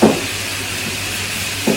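Cooking oil heating in a pan for frying shallots, giving a steady broadband hiss with faint sizzle throughout, with brief clatter at the start and end.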